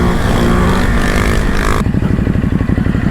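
A Ducati motorcycle engine revs loud and close, a sustained roar that then breaks into a rapid, choppy burble of exhaust pulses as the throttle changes.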